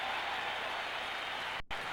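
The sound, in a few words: stadium crowd giving a football player a standing ovation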